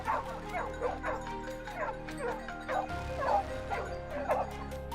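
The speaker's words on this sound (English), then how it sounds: "paired with a team of elite hunting dogs" A team of hunting dogs, out in dense forest while hunting wild boar, barks and yips in a quick, repeated series, fairly close, with whimpering mixed in.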